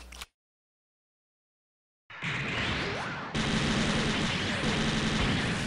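Weapon fire in the mecha game SD Gundam Online: after a short gap, dense continuous gunfire and blasts erupt and keep going loud and unbroken, with no talking.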